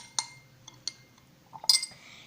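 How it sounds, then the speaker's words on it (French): A utensil clinks against a bowl while a strange mixture is stirred, giving a few sparse, light taps and scrapes close by with brief pauses between them. "Nous allons continuer un tout petit peu à mélanger."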